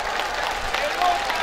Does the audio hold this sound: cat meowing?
no